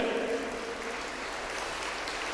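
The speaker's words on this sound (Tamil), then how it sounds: "எல்லாரும் நல்லா கைத்தட்டுங்க பார்ப்போம்" A church congregation at Our Lady of Lourdes claps together during a sermon on faith, a brief dense wash of applause at moderate level with no voices.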